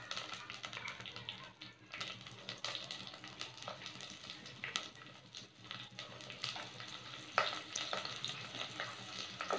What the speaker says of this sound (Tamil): கீழே போட்டு வதக்கி எடுத்துக்கலாம்.